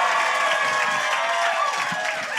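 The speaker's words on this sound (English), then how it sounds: "Is it weird they're clapping more for you than us?" Live podcast audience applauding and cheering for a guest from Aunty Donna, a dense, steady wash of clapping and whoops filling the whole stretch.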